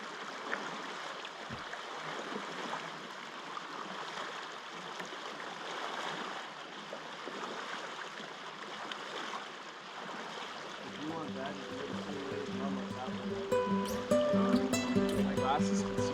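A canoe paddled on a lake at Lac Aux Sables, with water swishing and trickling around the paddle and hull under outdoor ambience, joined near the end by a tonal voice-like sound.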